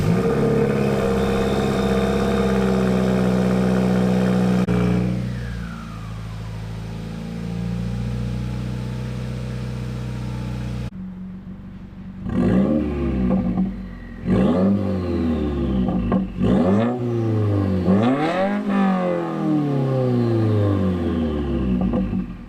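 A turbocharged Subaru WRX engine with a new downpipe and turbo-back exhaust idles steadily, cuts off, then restarts and revs in several sharp bursts, each rising and falling, close and loud.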